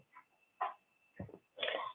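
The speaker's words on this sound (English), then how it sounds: "I'm sorry, that's my dog in the background." A dog makes a few short, faint whimpering or snuffling sounds in the background of a quiet room, in brief separate bursts.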